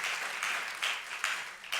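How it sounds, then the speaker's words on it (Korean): A church congregation at an Easter chapel service applauding the choir, a steady wash of clapping with slight swells, fairly distant and moderately soft. "우리 감사의 박수 한번 하겠습니다"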